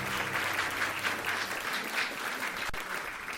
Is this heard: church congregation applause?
yes